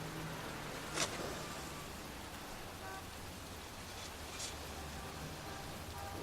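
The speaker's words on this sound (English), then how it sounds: "It's raining." Steady rain falling in a cemetery scene of the video game Heavy Rain, a soft, even hiss of downpour with a couple of faint brief clicks, quiet and continuous with no voices.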